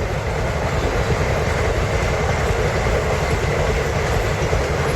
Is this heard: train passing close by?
yes